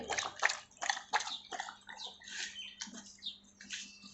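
A German Shepherd, tired and panting on a rooftop, laps up water in quick, soft, rhythmic slurps. The lapping comes in short wet bursts, quiet and close, with no talking.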